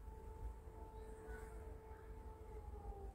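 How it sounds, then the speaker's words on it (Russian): A distant siren drones in a steady, faint wail under a low background rumble, with no voices. "Ну, слышите, сирена?"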